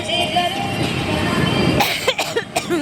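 Following a stretch of muffled rumbling noise, a person coughs a few times in short harsh bursts, close to the microphone.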